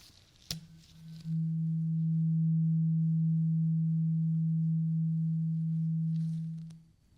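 A brief click, then a steady pure hearing test tone holds for several seconds before fading out, with faint room noise around it.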